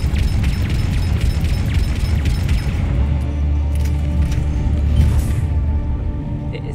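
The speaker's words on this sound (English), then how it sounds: "I heard a grenade." A grenade goes off in Mass Effect 3 combat, a deep rumbling boom buried in dense, continuous battle noise that stays loud throughout.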